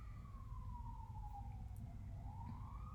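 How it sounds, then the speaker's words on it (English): An emergency vehicle siren passes in the distance, its pitch sweeping down and then back up over a low traffic rumble, faint and steady throughout. "let's just hold space for the siren going by right now"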